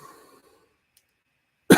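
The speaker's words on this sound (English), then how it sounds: "A little under weather today, so apologize for coughing" A person under the weather coughs once, a short loud burst at the very end after a faint murmur and near silence.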